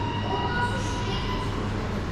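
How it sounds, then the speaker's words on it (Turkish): Steady low rumble and whir of a model train running on its track in a miniature museum display of Amasya town and river, continuous and moderately loud with a faint hum and room murmur. "Evet evet tren geliyor bak."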